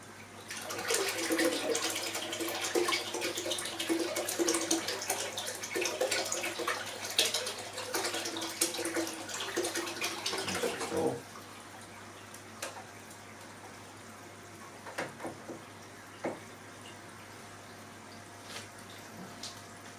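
Water rushes and splashes steadily from a pump hose after a pump swap for a smaller one, loud and close for about eleven seconds before abruptly stopping, leaving faint drips and quiet room noise.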